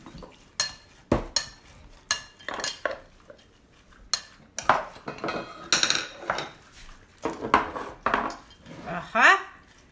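Mung beans stirred in a pot while cooking eriserri: a spoon repeatedly scrapes and clinks against the metal vessel in uneven close strokes, with a few soft remarks between them.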